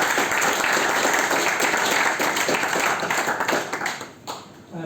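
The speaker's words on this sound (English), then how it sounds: "so give him a round of applause, please." A crowd applauds at an expats club general meeting in Chiang Mai, a dense, loud wash of clapping that holds steady, then thins and breaks into scattered claps near the end, with some voices mixed in.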